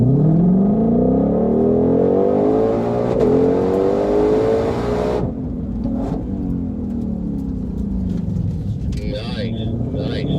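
A 2020 Ford Mustang Shelby GT500 in sport mode accelerates hard on a race track, its loud engine note climbing through the gears, then easing to a lower steady drone.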